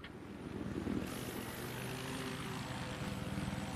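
A helicopter in the video game Battlefield 4 flies with a continuous rotor and engine drone, moderately loud and steady throughout, with no speech over it.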